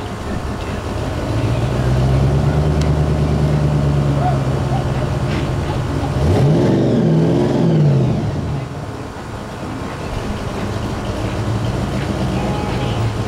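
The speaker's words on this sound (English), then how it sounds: "a Pro Street truck has just rolled up in here" A 1998 Chevrolet pro street pickup truck engine rumbles steadily, swelling into a couple of throaty revs midway before settling back to a loud idle.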